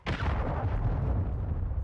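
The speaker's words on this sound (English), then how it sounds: "Friendly cruise missile deployed." A heavy cruise missile strike explodes in a Call of Duty game, a loud sudden blast followed by a long rumbling, roaring decay.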